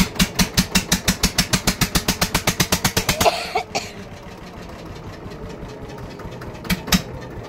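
A motor boat pulling away from a river jetty, its engine chugging in a fast, steady pulse of loud regular thumps that breaks off into a rougher rumble and scattered knocks.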